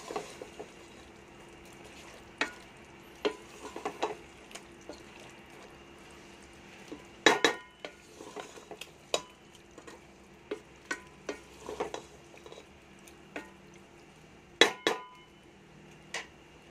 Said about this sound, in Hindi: चार से 5 मिनट जो है चिकन की अच्छी तरह हम भुनाई करेंगे